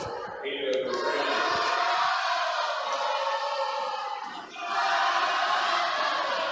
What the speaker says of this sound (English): Wildcat fans trying to cheer their squad on, maybe getting ahead of the server